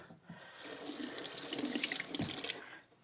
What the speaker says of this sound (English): So I'm going to rinse my hand off.